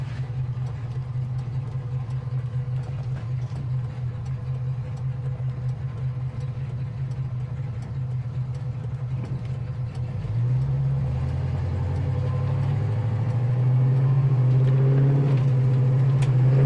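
A 1970 Pontiac LeMans engine idles with a steady low rumble, then pulls away from a stop as the revs climb and the tone deepens and swells louder, heard from inside the car with no talking.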